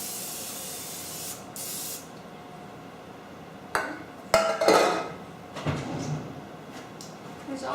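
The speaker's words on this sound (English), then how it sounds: "I'm going to spray my pan." A couple of short hissing bursts of cooking spray hit a pan, close up, amid light kitchen clatter.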